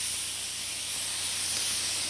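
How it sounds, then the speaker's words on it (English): A lesser quality spray gun sprays black paint onto a white surface, giving a steady, loud, broad hiss that holds unchanged throughout with no talk. "This is a lesser quality spray gun,"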